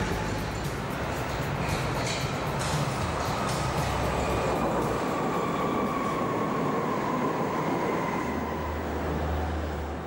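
A Berlin U-Bahn small-profile subway train runs past, giving a loud, steady rumble with rhythmic wheel clatter. Faint squeals rise over it throughout.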